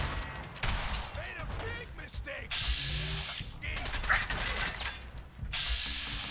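Automated turrets firing in Fallout 4, bursts of rapid mechanical gunfire in several stretches with metallic clatter between, moderately loud and mixed with other game sounds.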